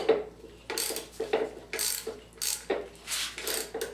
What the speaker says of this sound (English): Tighten up the power steering pump mounting nuts.